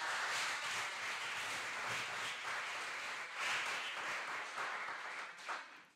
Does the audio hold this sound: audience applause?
yes